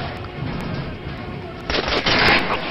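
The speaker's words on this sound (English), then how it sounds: "Try shooting for the center of the regular dummy's chest." Gunfire at shooting-range target dummies in the video game Metro Last Light, a steady stream of loud shots that grows denser and harsher in the second half, with a voice talking over the first part.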